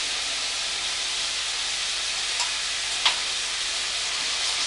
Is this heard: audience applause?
no